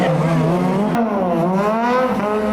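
A race car's engine wails close and loud on the track at the Luxembourg International Motor Show's ACL Race X final. The pitch climbs and shifts through gear changes with a brief sharp click partway through.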